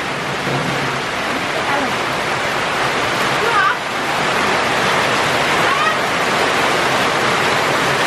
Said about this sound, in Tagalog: Lakas mo ng ulan.